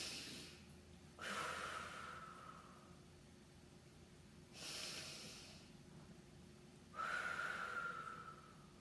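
Deep, forceful breaths during a bodyweight upper-body workout, three long hissing exhales and inhales spaced several seconds apart, close and alone.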